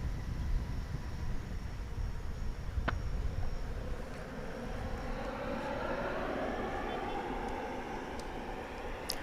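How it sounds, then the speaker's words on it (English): An American Airlines Boeing 737-800 jet landing at DFW International Airport, arriving from Austin, Texas: a steady, broadband engine roar with a slowly shifting whine, continuous and moderately loud throughout, with no talk. "That's an American Airlines flight coming in from Austin, Texas, the capital of our gigantic state."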